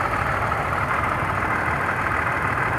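Pontiac Grand Prix GTP engine with a cylinder 4 misfire, idling in park, heard close as a steady, even hum and rumble with no voices.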